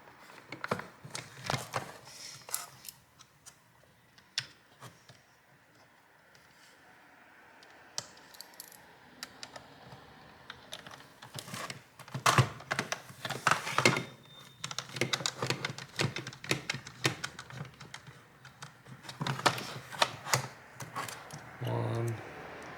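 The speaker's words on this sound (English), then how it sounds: "Clicking slowly." Plastic parts of a Dyson vacuum turbine head being fitted back together during a teardown and clean: irregular sharp clicks and snaps, close and crisp, in scattered bursts with quieter gaps between them.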